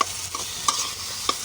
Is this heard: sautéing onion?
yes